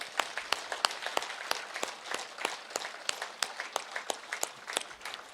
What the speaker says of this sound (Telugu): సేత్ మాస్టర్ గట్టిగా క్లాప్స్ చేద్దాం